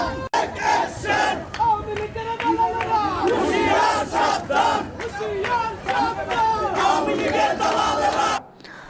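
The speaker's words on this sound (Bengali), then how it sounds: "বিভিন্ন স্লোগান দিয়ে মুখরিত করে তোলে পুরো এলাকা" A large crowd of BNP activists chanting slogans together at a rally in Narayanganj against terrorism and drugs, loud rhythmic shouted calls and responses rising and falling continuously before cutting off abruptly.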